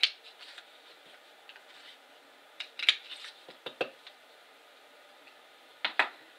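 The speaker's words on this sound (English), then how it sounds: "we're using a 1/2 inch circle punch, and we're going to cut 2 little circles out" Half-inch circle punch clicking through paper to cut small circles, a few sharp snapping clicks spaced apart over quiet background, close and fairly faint, no talk.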